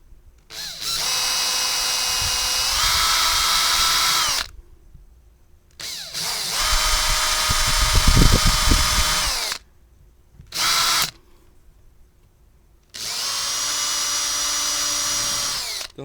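Power drill with a 5.5 mm bit boring holes to mount Batcase quick-release fasteners, several loud close bursts of whining motor separated by short silences, one burst grinding lower as the bit bites.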